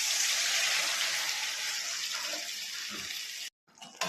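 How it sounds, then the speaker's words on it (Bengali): Water gushes in a continuous stream into a pan of prawn curry, a loud close splashing pour that stops abruptly, followed by a brief clink and a little bubbling. "এবার আমি জল দিয়ে দেবো।"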